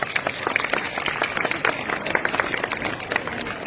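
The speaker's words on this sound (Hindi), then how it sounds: "जोरदार तालियां।" A crowd applauds at a school Independence Day ceremony during a trophy presentation. Dense, steady clapping fills the whole moment, fairly close and lively.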